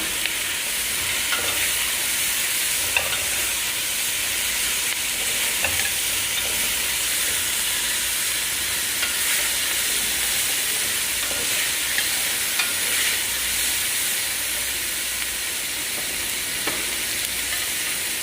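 Bell peppers frying in a pan while being stirred, a steady loud sizzle with faint scraping of the spoon now and then, continuous and close with no talk.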